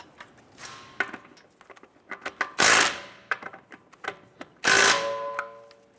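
An impact or power tool snugs down the lug nuts on a 2005-2010 Chrysler 300 during a steering rack bellow replacement, giving two loud, short buzzing bursts among scattered metallic clicks and clanks, up close with no talking.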